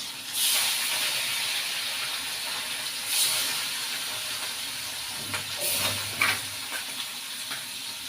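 Fish fry in hot oil in a Bangladeshi village kitchen, giving a steady bright hiss and sizzle with a few louder spattering bursts along the way.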